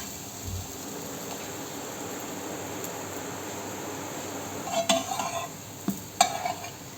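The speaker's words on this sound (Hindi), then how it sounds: "तो चलें जी अब इसको पलट लेते हैं।" A soft fluffy pancake in a buttered pan gives a steady, quiet sizzle, with a couple of sharp metallic spatula clinks as it is flipped near the end.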